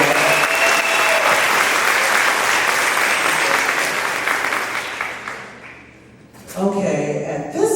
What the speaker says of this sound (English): So let's give the parents a round of applause as well.